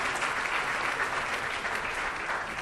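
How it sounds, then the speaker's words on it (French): Wedding guests at a customary marriage ceremony in a reception hall applaud the bride Samantha: continuous, even applause from a crowd, fairly soft and distant, steady from start to finish with no talking. "On peut applaudir pour Samantha."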